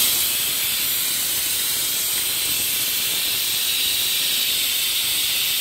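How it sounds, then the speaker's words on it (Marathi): A kitchen pressure cooker lets off a loud, continuous hiss of escaping steam, a steady bright whistle-like rush with no break. "इकडे कुकरची शिट्ट्या व्हायला सुरुवात झाली होती"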